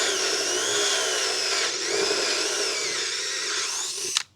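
An HSS step drill bit, a four-flute spiral unibit, whines steadily as it bores a hole, the tone rising and wavering as it steps up through sizes, ending with a sharp click as the drill stops.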